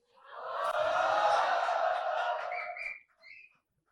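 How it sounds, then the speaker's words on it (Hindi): Audience at a Hindi poetry event whistling and cheering in a loud burst of crowd noise with shrill whistles, fading out after about three seconds with a short final whistle. "छोड़ो, सीटी ना बजाओ।"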